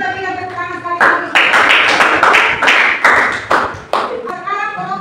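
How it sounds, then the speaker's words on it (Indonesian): Students in a classroom clap for a group after its presentation. The sharp, close, rhythmic hand claps come in loud bursts for a few seconds, with talking heard before and after the clapping. "Kita berikan tepuk tangan sekali."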